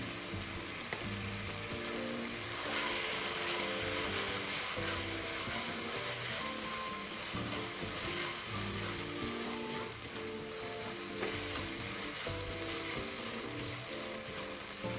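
BBQ pork filling with dark soy sauce stir-fried in a pan, giving a steady, fairly quiet sizzle with soft scraping and stirring throughout, no voices.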